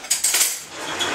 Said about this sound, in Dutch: de messen bij de messen en de vorken bij de vorken